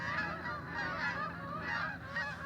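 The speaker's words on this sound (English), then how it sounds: "Dude, I don't like these geese." Geese honking outdoors in a grassy spot, a loud, continuous overlapping chorus of nasal honks from several birds close by, with no talking.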